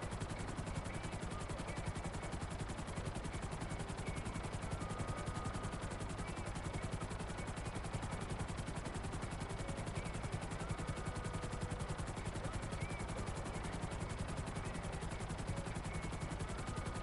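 Helicopter in GTA 5 flying continuously, a steady rotor and engine drone held at an even, fairly faint level for the whole stretch with no talk over it.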